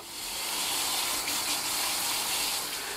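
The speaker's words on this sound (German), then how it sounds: "Ich nehme jetzt aber ganz heißes Wasser." Very hot water poured onto instant coffee and sugar, a steady loud gushing hiss of liquid filling a vessel, continuous and close for the whole stretch.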